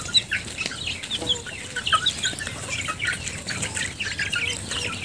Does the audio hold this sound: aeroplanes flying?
no